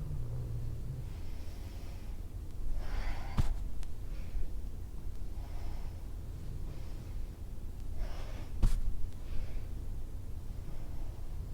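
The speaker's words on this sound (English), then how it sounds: "exhale, inhale, exhale, inhale, exhale, inhale, exhale." Yoga breathing during a flowing practice: slow, audible inhales and exhales close to the mic, coming in soft repeated waves a few seconds apart over a quiet room.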